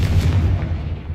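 Confringo blasting spell going off in Hogwarts Legacy, a single heavy booming explosion with a deep rumbling body that fades over about a second, loud and alone with no talk.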